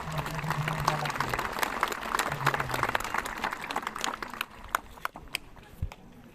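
A crowd claps at a church celebration marking the Gospel's arrival in the Baliem Valley at Hitigima, Wamena, Papua. Dense applause fades to scattered claps, with a voice speaking over it.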